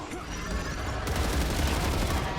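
Sustained rapid gunfire in the sci-fi video game StarRupture, aimed at the back of a Goliath creature, a dense continuous volley of loud shots with layered booms filling the whole stretch.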